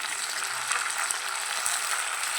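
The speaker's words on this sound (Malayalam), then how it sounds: "ഇപ്പം നമ്മുടെ കറിവേപ്പില നല്ലോണക്ക് മൂത്തിട്ടുണ്ട്. നല്ല ചിൽ ശബ്ദമായിരിക്കുകയാണ്" Curry leaves fry in hot oil for a curry leaf pickle, giving a steady broadband sizzle with a fine crackling texture at an even level throughout, with no voices.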